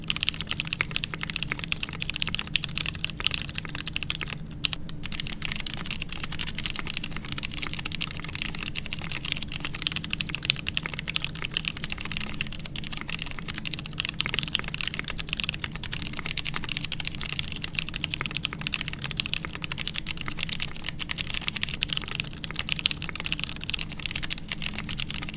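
Steady, fast typing on a mechanical keyboard with Durock Light Tactile switches, a dense run of close, crisp clacks continuing for the whole stretch with no talk.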